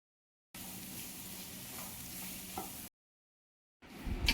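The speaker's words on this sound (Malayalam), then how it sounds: "ഇനി ഇത് നല്ല പോലെ നമുക്ക് വഴറ്റിയെടുക്കാം" Chopped onion sautéing in a hot pan for Kerala chicken kondattam, a steady close sizzle with faint stirring scrapes, then a pause before the frying noise resumes louder for a moment.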